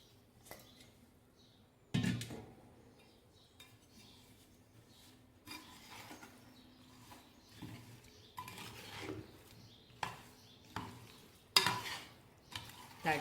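Tempering spices frying in oil for a drumstick pickle, a quiet low sizzle with louder periodic scrapes and stirs that grow more frequent toward the end, close by, no voices.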